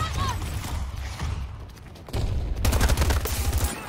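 A 200-round machine gun fires in a Battlefield shooter, with scattered shots and thuds, then a sustained rapid burst of close gunfire over the last second or so.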